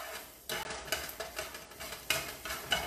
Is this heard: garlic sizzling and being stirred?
yes